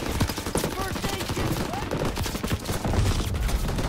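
Dense gunfire in a World War II video game set in the Battle of the Bulge, with steady crackling bursts of rifle and machine-gun shots running loud throughout amid chaotic battle noise.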